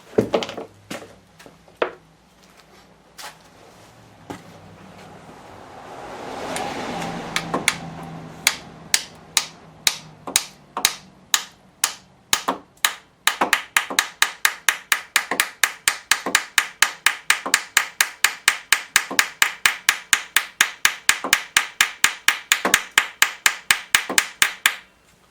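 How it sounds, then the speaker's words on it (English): Metallic small-hammer taps driving a rail pin into a Mercedes-Benz W202 C280 M104 engine during head gasket reassembly, sparse and irregular at first, then a fast steady run of sharp strikes that continues to the end, close by. "Now we need a small hammer."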